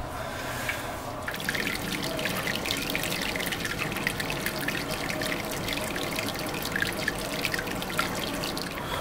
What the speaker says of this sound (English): The mashing is just completed, so I'll just remove the pipe and let it hang to drip.